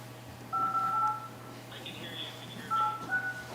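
Telephone dialing tones ring out during a town select board meeting: two clusters of short, clear keypad beeps over a low background hum.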